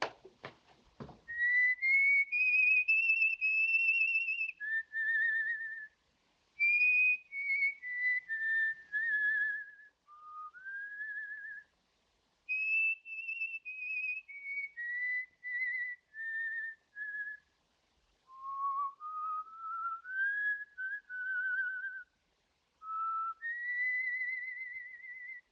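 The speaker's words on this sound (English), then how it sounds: "I wish he'd put his whistle out." A person whistles a long, wandering melody in clear, sustained phrases with short breaths between them, close and alone with no talking, in a 1936 screwball comedy scene.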